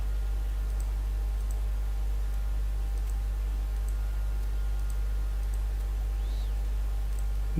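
Mouse clicks while editing in Photoshop, heard as faint, sparse, evenly spaced ticks over a steady low electrical hum, with no talking.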